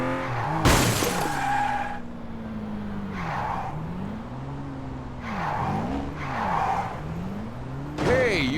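A car crash in the video game Gangster Rio, with a sharp crunching impact followed by engine drone rising and falling and a brief squeal at the end.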